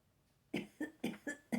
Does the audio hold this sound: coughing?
yes